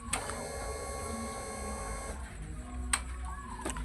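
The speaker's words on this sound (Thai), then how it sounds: "อันนี้คือปั๊มติ๊กทำงานปกติ" A Honda Wave 110i motorcycle fuel pump, switched on by the key, gives a steady electric whine with a faint hum. It cuts off after about two seconds, leaving a couple of sharp clicks.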